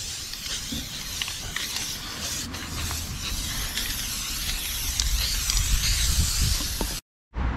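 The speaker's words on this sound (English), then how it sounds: "I'm gonna spray paint his mint hockey shooting pad." A steady hissing spray runs for several seconds, close and continuous, with small clicks and shifts, then cuts off abruptly before resuming.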